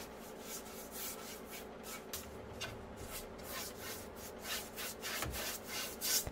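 Cloth buffing excess Howard wax off wooden drawers of a mid-century modern dresser, a steady soft rubbing that continues throughout at low level, alone.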